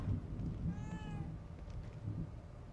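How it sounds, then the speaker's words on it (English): A cat in the video game The Evil Within 2 gives a single clear meow amid a low rumbling, stormy game ambience. "Kitty. A cat."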